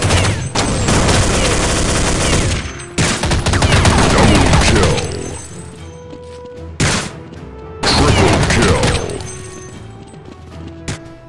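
Black Dragon artillery, a small cannon weapon in Counter-Strike Nexon: Zombies, fires in loud heavy bursts of booming shots, with a dense roaring volley at the start, another around the middle and a final blast later, separated by quieter decaying tails.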